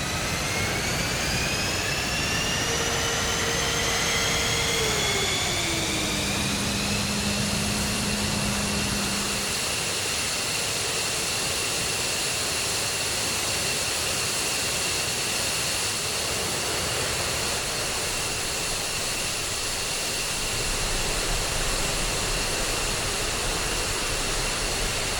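An F-15E Strike Eagle jet engine in the flight simulator DCS, a loud continuous roar with high whines that climb as power builds, then a steady sustained howl until the end.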